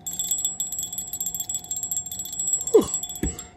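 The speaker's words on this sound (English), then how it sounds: "Got another cone-shaped bell." A cone-shaped bell rings with a sustained, bright metallic tone that holds steady for several seconds, then a sharp strike and a second hit near the end, close and fairly loud.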